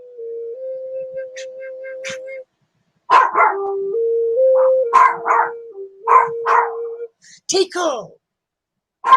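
Tico, a pet dog at home, barks in short bursts between stretches of sustained whining or howling tones, close and fairly loud, with gaps of silence in between.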